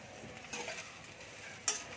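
Spinach muthia in a pan with a spice tempering, giving a faint, steady sizzle with a couple of brief scraping stirs.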